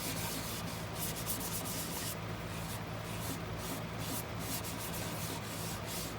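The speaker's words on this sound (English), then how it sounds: "This is not even a finish that I put on here. This is furthering the sanding process." A hand rubs abrasive paste and sandpaper over a wooden bowl in a continuous soft, gritty scrubbing, with faint rhythmic strokes throughout.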